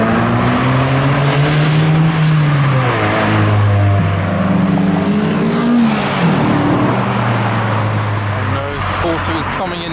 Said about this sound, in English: Corsa is coming in hot